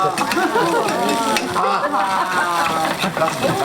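Chinese pot sticker dumplings sizzle and crackle steadily in a hot frying pan as they are set down, a close continuous fry with scraping under a talking voice.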